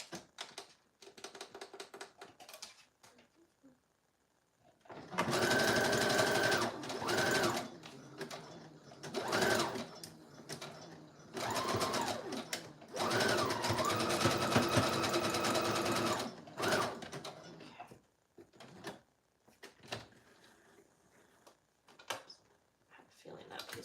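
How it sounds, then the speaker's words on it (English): A sewing machine stitches paper pieces onto a recycled food box being made into a window journal, running in loud whirring bursts with short pauses and quieter stretches between them. "I will focus on getting these pieces sewed on"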